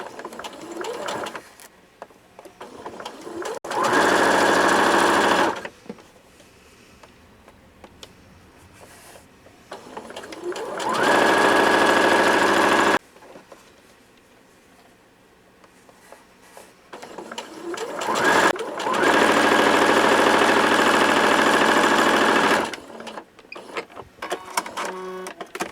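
A sewing machine stitching a fabric lanyard along a fold, running in two long, loud, steady bursts with quieter pauses between them while the fabric is handled, and no talking.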